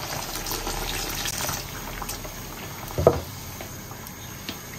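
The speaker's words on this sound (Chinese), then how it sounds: "搅拌一下" Hot and sour noodles in broth with hot pot seasoning and vinegar are stirred in a pot, with soft liquid sloshing and one sharp clink of a utensil midway, close and moderately quiet.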